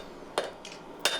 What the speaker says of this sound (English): I'm further just hammering down on that